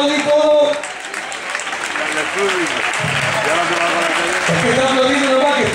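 Audience applause at a comedy club show fills the room, loud at first, then easing to a steady clatter of clapping, with someone talking over it.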